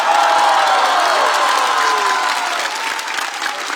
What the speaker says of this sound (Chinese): 我们再次把掌声送给今天优秀的表演者们